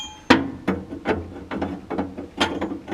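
The grate in a waste oil burning heater rattles as it is shaken to drop ash, a series of sharp metallic clanks in an irregular rhythm, close and alone.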